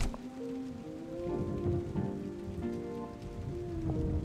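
Steady rain in the Rainy Plains area of the video game Islets, a constant hiss of drops on surfaces under a soft sustained musical drone, with no talking.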